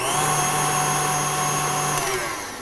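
Electric mixer running steadily at higher speed through butter mochi batter, a continuous close whirring drone with a sustained motor hum that eases slightly near the end.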